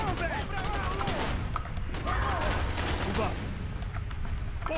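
AK-47 fire in Call of Duty: Black Ops, dense continuous bursts of automatic gunfire crackling loudly throughout amid a busy battle din, with voices talking over it.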